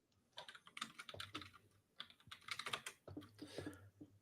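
Rapid, uneven keyboard typing in bursts of clicky keystrokes, close to the microphone, with short pauses between flurries.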